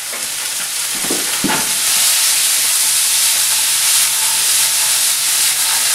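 Potatoes tumbled into hot oil with onions and garlic, a steady loud sizzle and hiss with a couple of clattering stirs early on, continuous and close.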